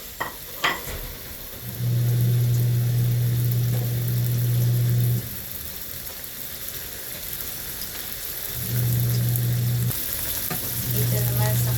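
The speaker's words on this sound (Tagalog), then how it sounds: "Yan, mainit na ang mantika. Maglalagay ako ng turmeric at luyang Tagalog." Turmeric and native ginger dropped into hot oil in a pan give a loud, steady sizzle that runs for a few seconds, drops away, then returns in shorter bursts, with a low hum underneath and no talking.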